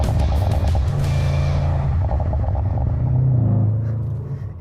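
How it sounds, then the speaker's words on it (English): An MTM-tuned Audi RS6 with a flap exhaust rumbles loudly on a country road, deep engine roar rising then fading away at the end. "We switch to the country road to listen once again to the sounds of the MTM flap exhaust system."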